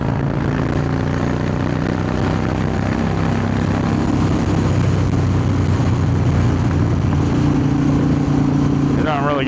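A cruiser motorcycle engine pulls in fifth gear on the highway: a loud, steady drone that rises slowly in pitch, mixed with wind noise, with no pauses.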